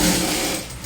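A direct-drive automatic thread-trimming lockstitch sewing machine, model MS930-K, runs in a short, loud burst of dense mechanical whirring lasting under a second.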